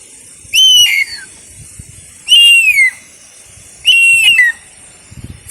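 A man whistles three separate imitations of a kite's call, each a high descending piping cry with a short trailing note, evenly spaced and clear against a quiet background.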